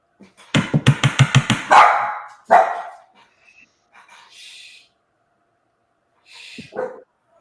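Franklin, a long-haired dog, lets out a rapid burst of about six loud barks close by, followed by a longer bark and a single sharp one, then quieter whimpering sounds.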